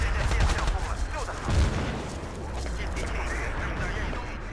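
Rapid bursts of gunfire in the video game Battlefield 2, on the map Fushe Pass, dense and loud at first, then settling into a sustained rumble, with muffled voices underneath.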